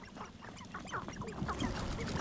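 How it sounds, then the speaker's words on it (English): Chickens cluck in Hogwarts Legacy, several short bird calls repeating over a steady, busy game background throughout. "Oh, chickens."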